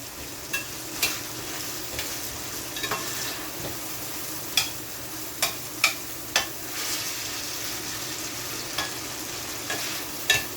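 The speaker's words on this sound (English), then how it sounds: "go in with my coconut milk and allow it to cook for about 5 minutes" Salt mackerel cooks in coconut milk in a pot, giving a steady low sizzle and bubble with a few sharp clinks and scrapes from stirring scattered throughout.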